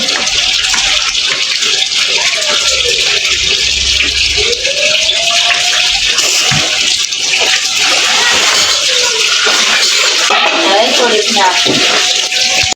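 Fish being washed by hand indoors, with loud continuous water gushing and splashing close by throughout, and speech heard over it.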